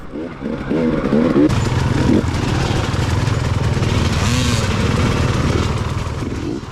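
A group of motorcycles rides together at a steady pace on a fall ride, with a loud, continuous engine drone up close that holds nearly level from start to finish.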